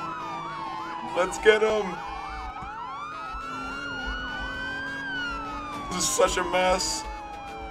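Police car sirens in the video game Emergency Response Liberty County, several wailing tones sweeping up and down and overlapping steadily throughout, with excited voices shouting over them in bursts.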